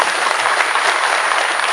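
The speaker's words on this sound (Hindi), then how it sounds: "एक बार इनके लिए तालियां हो जाए" Dense, steady applause from a crowd at an official public event in Kashmir, loud and continuous, with no other sound standing out.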